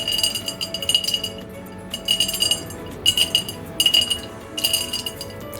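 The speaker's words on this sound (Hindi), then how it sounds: "अब मैं आपको ये सारी निम्को मिक्स करके दिखाती हूँ" Homemade crispy nimko, a Sev-style fried snack, being tossed and mixed with cashews and peanuts, giving bursts of light dry clinking and rattling that come and go in several waves, close and alone.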